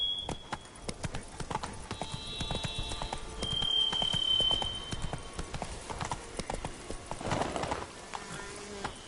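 Horse hooves clip-clop at a steady trot in The Witcher video game, a close, regular rhythm over faint ambient game sound and brief tonal effects.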